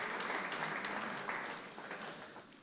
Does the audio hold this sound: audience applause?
yes